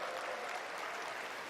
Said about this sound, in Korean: 미국 상하원 의원들은 모두 일어나 윤 대통령을 박수로 맞이했습니다.